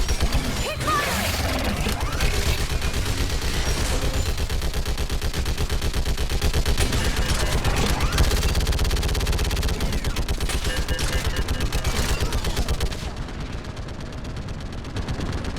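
Sustained firefight from Mass Effect 3, dense rapid automatic weapon fire rattling on without pause, close and loud, easing slightly near the end.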